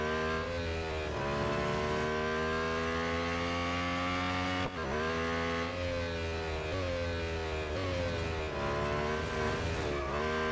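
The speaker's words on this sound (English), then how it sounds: "Bit of a skid there." A Lotus Emira GT4 in Real Racing 3 roars steadily at high revs for the whole stretch, its engine note dipping and climbing through gear changes, with a brief skid along the way.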